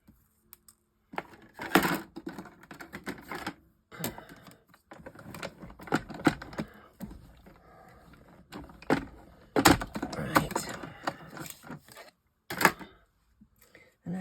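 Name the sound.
cutting out advent calendar pieces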